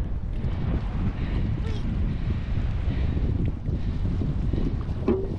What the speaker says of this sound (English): It's quite windy, eh?